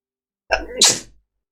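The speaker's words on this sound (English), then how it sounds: "Sorry for sneezing." A single loud sneeze close up: a quick inhaled catch followed by a sharp, hissing burst that trails off into silence.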